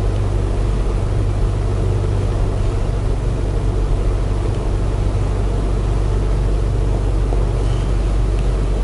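A Haval H6 crossover creeps slowly along an off-road track, its engine giving a steady low drone with constant rumbling road and drivetrain noise and no break in the sound.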